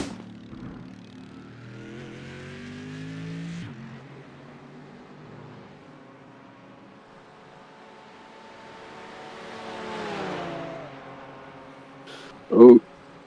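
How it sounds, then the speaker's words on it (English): A Porsche race car roars past during a one-hour road race at Virginia International Raceway, its engine note swelling as it nears and fading away. A brief sharp knock comes near the end, and a commentator's voice may run underneath. "the Michelin Porsche goes by"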